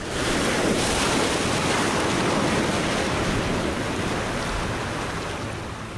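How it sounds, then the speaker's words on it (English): Ocean waves crashing on the shore, a loud, continuous roaring surf with wind noise, steady throughout and no voices. "There are few sounds more relaxing than the sound of the ocean waves crashing."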